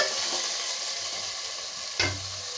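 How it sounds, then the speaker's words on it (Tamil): Two large lengthwise-sliced onions and a tomato sautéing in a pan for peanut rice, a steady close sizzle with a sharper stirring scrape about two thirds of the way through. "இப்போ 2 பெரிய வெங்காயம் நீளமாக வெட்டி வச்சுருக்கேன், அதையும் போட்டு நல்லா வதக்கி விட்டுக்கலாங்க"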